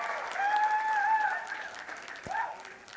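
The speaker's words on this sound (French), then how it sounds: "applaudissez Christelle" An audience claps for a volunteer named Christelle at a local high-school talent show final, steady, moderate applause with a few thin whistle-like tones riding over it before it thins out.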